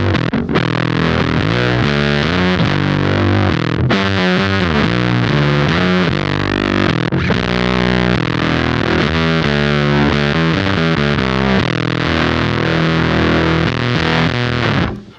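Cat Box Customs Bean Machine harmonic percolator fuzz pedal in high gain mode, a loud, saturated distorted guitar playing continuous riffs and sustained chords, thick and buzzy throughout with brief breaks between phrases.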